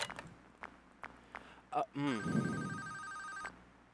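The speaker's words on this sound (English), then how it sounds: "There's a phone call?" A telephone rings in a Five Nights at Freddy's fan game set in a Fazbear Entertainment storage area, a loud steady electronic bell sustained for over a second after a few soft knocks and a brief voice.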